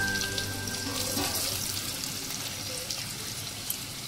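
Banana flower chops fry gently on a low flame, giving a soft, even sizzling hiss with a faint hum in the background and no clear voices.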